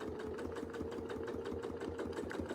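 A sewing machine hums and stitches steadily during free-motion quilting of curl patterns, with a close, continuous mechanical whir and rapid needle pulses throughout.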